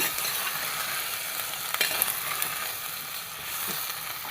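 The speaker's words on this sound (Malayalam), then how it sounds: "ഇതൊന്ന് പതുക്കെ നമുക്ക് ഇളക്കി കൊടുക്കാം ഈ എണ്ണയിൽ കിടന്നൊന്ന് വെന്തോട്ടെ" Vegetables frying in hot oil for a fish curry, gently stirred, give a steady close sizzle with a few soft utensil scrapes and clicks; no voices.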